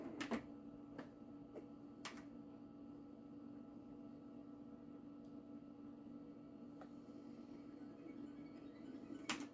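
A handful of sparse, sharp key presses on a PC-98 computer keyboard, spaced irregularly over a steady machine hum and fan drone.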